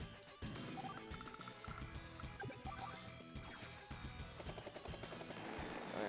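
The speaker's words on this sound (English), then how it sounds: "Might as well chip away at these rockets with my pro helicopter machine guns." Helicopter machine guns firing in the Advance Wars video game, a sustained burst of rapid game gunfire and rotor-like din mixed with crashes, loud and continuous over electronic game music.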